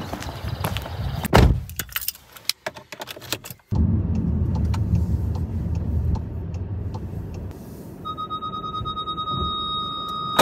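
A car drives on the road toward Visby, the town in Sweden. Steady engine and road rumble holds after a burst of keys jangling and door handling near the start, and a thin electronic tone sounds near the end.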